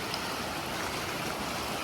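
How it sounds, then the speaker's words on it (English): A small stream on a hiking trail gives off a steady, broad rush of flowing water, close and unbroken, with no voices. "beautiful little stream again. Heck, I've not been going that far, so I don't need any water, but look at that. You can hear it as well."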